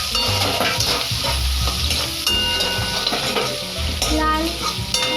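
Sliced onion frying in a pan, a dense loud sizzle with repeated stirring scrapes and clinks of a spoon against the metal, close and continuous, with a low rumble beneath.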